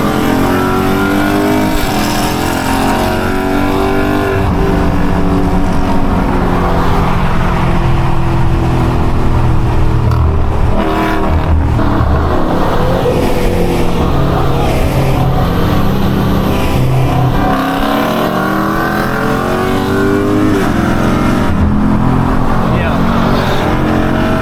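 Dodge Scat Pack cars street-race a Camaro SS, a C6 Corvette and a G37, heard from inside one car as a loud, steady engine roar mixed with rushing wind for the whole stretch.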